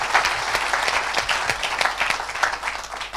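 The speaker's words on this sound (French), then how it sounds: "Donne une grande acclamation à Jésus." A church congregation gives a brisk round of applause in praise of Jesus, many hands clapping densely and close for the whole stretch, with a few sharper claps standing out.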